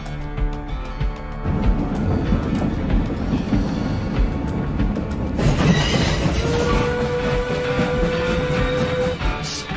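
A train carriage in the video game Evil West rumbles and clatters steadily on the rails, a loud, continuous roll with a long metallic squeal in the latter half.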